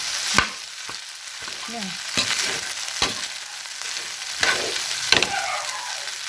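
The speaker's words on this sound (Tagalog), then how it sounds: "Hahaluin ko lang siya ng maayos." Vegetable fried rice sizzles steadily in a pan while it is stirred, with sharp scrapes and knocks of the utensil against the pan and a brief spoken word near the end.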